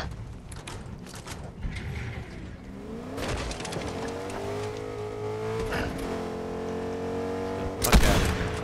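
A truck driving in Fortnite, engine revving and shifting pitch while it accelerates, with scattered gunfire bursts and a sharp crash near the end; the in-game vehicle sits under busy action throughout.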